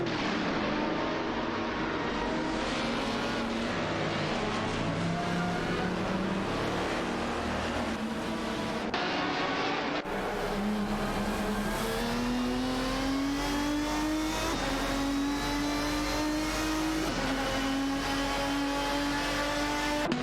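AI-driven race cars in a video game, including a Porsche Carrera GTR and a Celine 7R, roar past with continuous high-revving engine drones that rise in pitch through gear changes, loud and sustained without pause.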